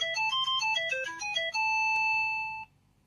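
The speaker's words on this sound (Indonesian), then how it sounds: "Poliponiknya merdu sekali, beda dengan Nokia pada umumnya." A polyphonic ringtone from a 2006 Vertu Constellation phone with stereo speakers, playing a bright stepping melody and then a held chord before cutting off. It sounds close and clear, with no talk.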